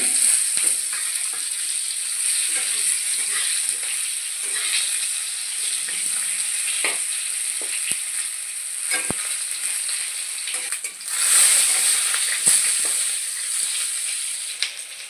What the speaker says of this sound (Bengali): আগে পটলগুলো একটু ভেজে নেব তেলেতে